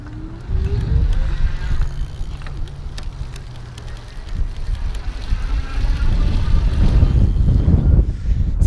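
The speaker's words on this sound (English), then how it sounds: "Seems like there was a delay from when I started pedaling to when the bike actually took off." A Velec R48 electric bike is pedaled on a wet road, giving a continuous low rolling rumble with wind buffeting and tire hiss on the wet surface that grows louder as it picks up speed.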